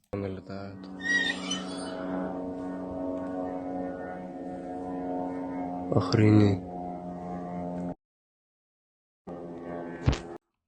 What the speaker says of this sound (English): we can definitely hear these drones coming into the Rostov region last night